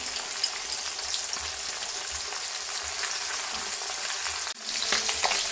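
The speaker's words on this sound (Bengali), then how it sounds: "এখন মাছগুলো ভালো করে লাল করে ভেজে তুলে নিব।" Fish pieces fry in hot oil with a steady, dense crackling sizzle that stays even throughout, apart from a brief dip near the end.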